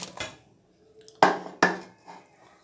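Pakoras being mixed into kadhi batter in a pot: a few sharp metallic clinks and knocks of a spoon against the pot, with short gaps between them, and a quiet background.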